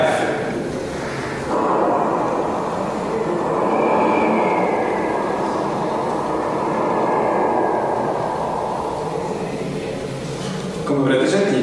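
Breath pushed through a tuba while shaping an F consonant makes a steady, breathy rush of air. The hiss holds for about ten seconds with slight swells and no clear pitch.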